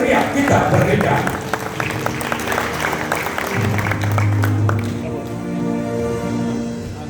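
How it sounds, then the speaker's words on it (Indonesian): Scattered audience clapping at an inauguration ceremony for GAMKI North Sumatra leaders, moderate and fading, with a held tone and some background voices mixed in. "tepuk tangan meriah kita berdeka"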